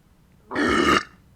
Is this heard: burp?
yes